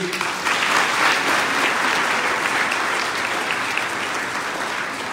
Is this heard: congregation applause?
yes